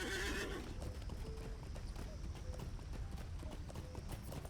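Horse hooves clip-clop at a steady gallop in the online game The Lord of the Rings Online (LOTRO), a continuous rhythmic beat running the whole time at moderate level beneath faint ambient game sound.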